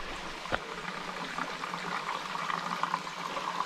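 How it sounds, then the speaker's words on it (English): On a hiking trip, water runs through a gravity filter into a 3-liter container as a soft, continuous trickle, faint and close, with one brief click near the start and no talking. "So filtering water."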